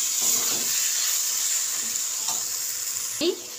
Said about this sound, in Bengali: আমি দিয়ে এই মশলার সাথে ভালো করে চর্বিটা কষিয়ে নেব।